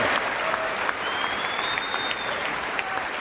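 Sustained applause from a large audience in a formal hall, a standing ovation for Indian Prime Minister Narendra Modi, dense steady clapping throughout with a faint crowd murmur and a brief whistle-like tone.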